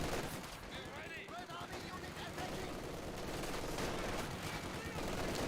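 Battle gunfire in Company of Heroes 2, with dense, rapid shots and bursts layered over one another in continuous faint combat noise, with a voice present underneath.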